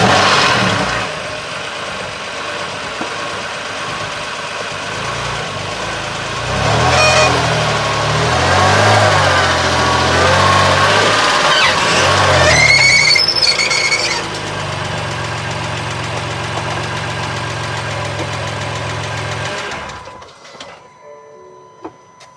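A crashed BMW M2 Competition's engine runs steadily with a rough, knocking mechanical note, swelling louder midway as the damaged car is moved, then cutting off near the end.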